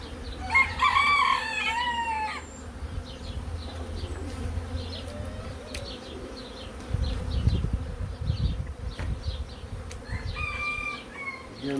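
Honeybees buzz around a mature beehive being readied for transfer to an orchard, a steady close hum throughout, while a rooster crows nearby at the start and again near the end.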